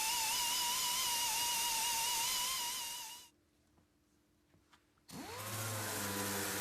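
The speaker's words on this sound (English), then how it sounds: "Residue from mouldings can easily be cleaned up using the 3M stripe-off wheel." A 3M stripe-off wheel cleans moulding residue off a car body, giving a loud, steady high-pitched whine with a falling drone tone. It cuts out briefly into near silence with faint clicks, then spins back up into a steady whir.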